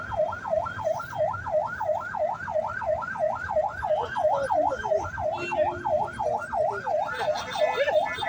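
An ambulance siren wails in a fast, rising and falling cycle, repeating steadily and fairly close, while the ambulance sits stuck in a traffic jam in Nepal, with engine rumble and street noise underneath.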